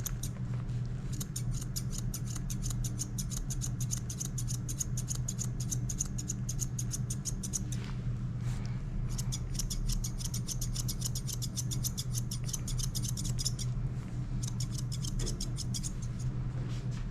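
Thinning shears trimming a Shih Tzu's hair near the face, rapid crisp snipping in quick bursts with brief pauses, close and clear against a steady low hum.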